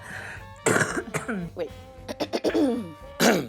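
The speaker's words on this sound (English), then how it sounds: "I need to cough." A person coughs and clears their throat several times in short rough bursts, close to the microphone, with a brief spoken word between them.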